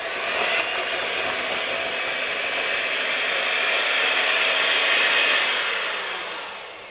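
An electric mixer whirs steadily as its beaters spin through a no-bake cheesecake mixture in a home kitchen, a loud continuous motor drone with light rattling near the start that slowly fades toward the end.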